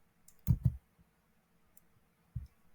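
A few close, quiet mouse clicks while working in Canva: a quick double click, then a single click about two seconds later, in an otherwise silent room.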